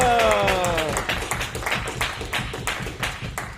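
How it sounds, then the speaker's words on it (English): A crowd at a live event with Congresswoman Sheila Jackson Lee breaks into clapping, a sharp, uneven patter of hands that keeps going after a voice rings out briefly at the start. "Everybody is applauding you."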